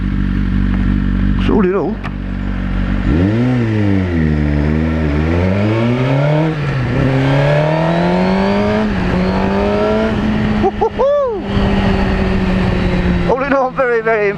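A Suzuki GSX-R1000 superbike fitted with a Yoshimura exhaust revs and accelerates loudly, its engine pitch sweeping up and down through several rises and a sustained high drone, while someone talks over it.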